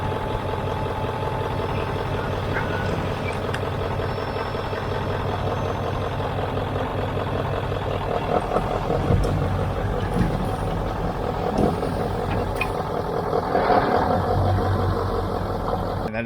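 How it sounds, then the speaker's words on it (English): A truck idles and rumbles steadily at a dumping yard while unloading a load of yard waste, with brief hisses and clanks over the constant engine drone and no talking. "So I'm gonna dump this truck real quick so we can get going."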